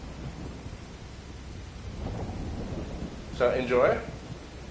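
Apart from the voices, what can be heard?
thunderstorm with rain outside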